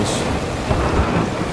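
Rain pours during a thunderstorm in the video game Zelda: Tears of the Kingdom, a loud dense wash with a deep rumbling thunder roll underneath, continuous through the short stretch without speech.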